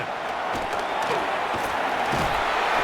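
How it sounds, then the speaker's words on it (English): A stadium crowd roars steadily and continuously throughout in the Madden NFL 26 video game, a dense wash of noise as the Rams play at the Jacksonville Jaguars. "they're going to hear it from this crowd"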